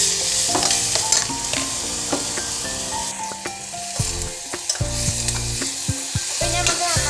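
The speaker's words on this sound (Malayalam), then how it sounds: "ഇനി നമുക്ക് അതിലേക്ക് സവാള ഇട്ട് കൊടുക്കാം." Sliced onion tossed into fried ginger-garlic paste in a pan, sizzling loudly while a spatula scrapes and stirs in repeated strokes, with sharp metallic knocks, no voices.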